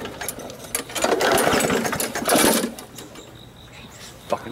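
Someone yanks the pull cord of a lawn mower over and over, making a rapid mechanical rattling that swells and fades with each pull, but the engine never catches. A voice mutters nearby.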